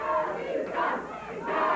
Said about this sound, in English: the crowd is expressing their feelings about Doug, and they are not what Doug would like to hear